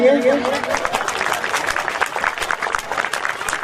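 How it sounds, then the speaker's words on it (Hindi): Audience at a 2019 program clapping to welcome committee members onto the stage, a continuous patter of hands with a voice speaking over it. "सभी यहाँ तालियों से स्वागत करेंगे"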